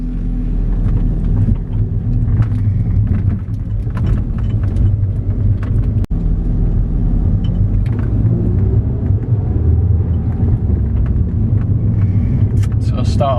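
Audi S3 8L engine idling steadily after a cold start, a continuous low rumble throughout with a brief dropout midway.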